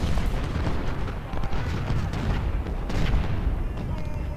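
Enemy artillery fire in the Civil War strategy game Ultimate General: Civil War, a dense, continuous rumble of booms and cannon blasts at steady loudness, with faint voices mixed in.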